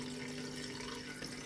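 Gex filtered cat water fountain with its small electric pump running, giving a soft, steady trickle of flowing water over a faint constant hum, quiet and close with no talking.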